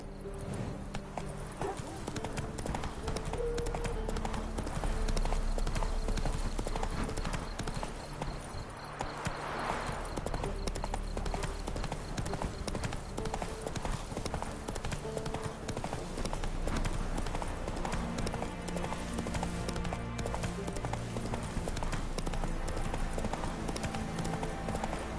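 Hooves clip-clop steadily as a horse is ridden in The Witcher 3 video game. The beat stays even and continuous, with game ambience and a voice over it.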